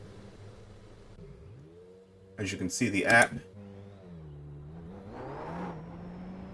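Super Formula race car in the iRacing sim, its engine droning steadily with a brief louder rev burst partway through and a smaller rise near the end, under someone talking.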